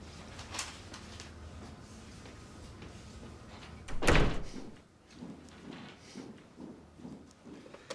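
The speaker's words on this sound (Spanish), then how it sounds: "Debería rematarla con un buen portazo" A door slams once with a loud, sharp thud in a period drama scene, standing out from a quiet room background with low murmur before and after.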